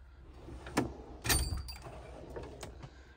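A drawer on a US General 26 inch toolbox slides open with a couple of close metallic clacks and a scraping glide, followed by a few lighter rattles.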